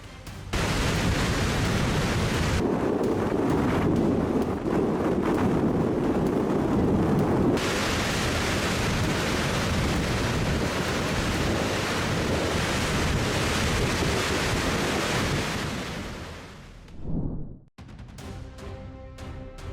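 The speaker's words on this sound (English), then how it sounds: "Massive waves slamming into a Michigan lighthouse during a winter storm" Massive storm waves slam into a Michigan lighthouse in winter, loud churning surf and roaring wind buffeting the microphone almost without pause, then easing near the end into quieter wind.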